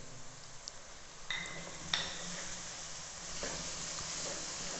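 Garlic and onions fry in a pan with a soft, steady sizzle, broken by a few faint clinks and stirring scrapes, heard close and quiet.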